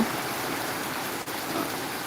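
Steady continuous rain falls in an even, dense hiss that fills the whole stretch without pause, with no one speaking.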